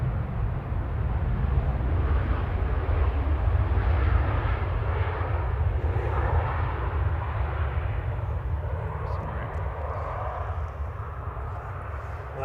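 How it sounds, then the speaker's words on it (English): A Ryanair plane arriving from Tenerife touches down at Manchester Airport, a low, steady engine rumble with a broader roar swelling midway before easing off. "Ryanair from Tenerife touching down"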